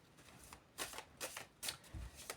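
Angel tarot deck being shuffled, soft papery riffles and slides in several quick pulses, close but quiet, with no talking.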